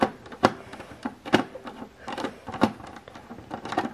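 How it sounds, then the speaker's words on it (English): Screws being backed out of a wall-mount moon lamp give a series of sharp little clicks and scrapes, spaced irregularly about every half second, close and fairly quiet. "So now that I have removed the batteries, I will remove these screws."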